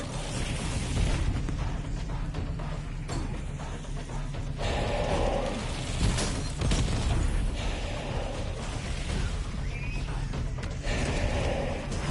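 A frag grenade goes off on the Call of Duty zombies map Totenreich, giving heavy booming blasts with rumbling low end, set against a dense, noisy mix of game action that stays loud throughout.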